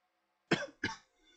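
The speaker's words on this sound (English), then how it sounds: "I need to maybe get a cough button." Two quick, close coughs in a row from a man during live racing commentary, followed by a faint breath, with nothing else in the background.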